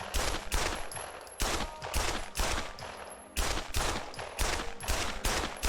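Pistol shots in the VR shooter Pavlov, fired in a steady series of about a dozen sharp, loud cracks spaced roughly half a second apart, each with a short decaying tail and no talking.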